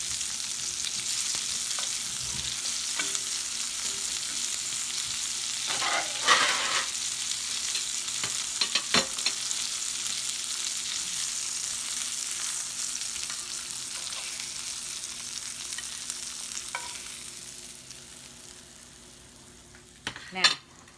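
Liver fries in a frying pan with a steady, continuous sizzle, with a few soft clinks and a sharper clatter near the end.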